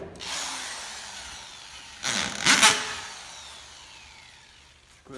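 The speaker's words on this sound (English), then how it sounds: "Okay, so we sliced it around both sides." A power tool cuts through a scrap tire in a rough grinding burst that peaks sharply midway, then trails off into a quieter whine with no one talking.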